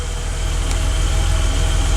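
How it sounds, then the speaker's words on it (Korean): A BMW 635 CSI's exhaust burbling at idle inside a garage, a steady, close, low-pitched rumble that holds even and loud throughout, with no voices. "635 CSI 배기음이에요."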